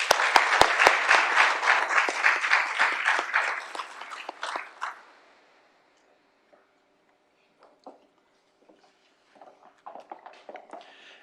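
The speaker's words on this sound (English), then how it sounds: "Please give them one final round of applause." A final round of applause for scholarship winners at a 4-H awards ceremony: steady, full clapping from an audience for about five seconds, then fading out to near silence with a few scattered sounds.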